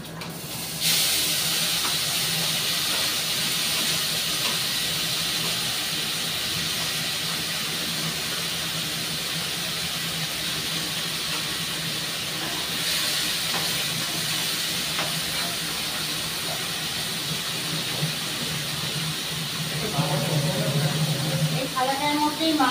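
Okra hits a hot frying pan with a strong, continuous hissing sizzle that stays loud and even throughout, swelling slightly near the end.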